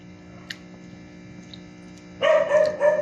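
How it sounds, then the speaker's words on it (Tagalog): Several dogs bark in a loud cluster of sharp yelps near the end, after a quiet stretch with low steady hum and a faint click. "Ingay ng aso."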